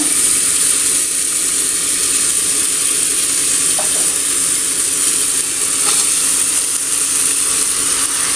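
Chopped carrot and potato sauté in a pressure cooker for sambar rice, a dense steady hiss and sizzle with a couple of faint knocks, loud and close throughout, no voices.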